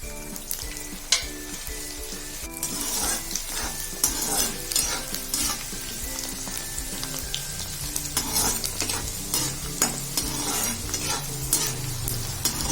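A busy, crackling sizzle of garlic and green chili frying in hot oil, with repeated stirring scrapes and taps throughout, loud and close.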